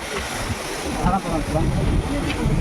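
A boat crosses the middle of the Ganges river near Belur Math, with continuous wash of water and wind buffeting the microphone, fairly loud and steady, with faint voices mixed in.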